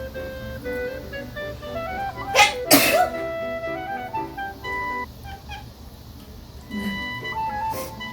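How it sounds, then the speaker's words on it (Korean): A person sneezes sharply, set off by cat hair, with a short intake just before the loud burst near the middle and quieter rustling and small sounds after. "아, 네 털 때문에 재채기 나오잖아."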